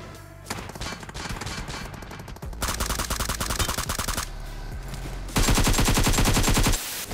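Rapid automatic gunfire from behind in the battle royale game BGMI, loud dense bursts of shots firing in fast rhythmic volleys with short pauses between.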